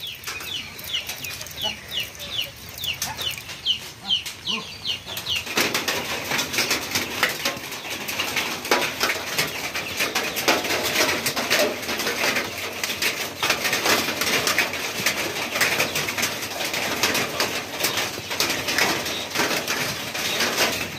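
Birds chirp and call in quick bursts for the first few seconds, then a steady broadband outdoor noise, like wind or rustling, takes over.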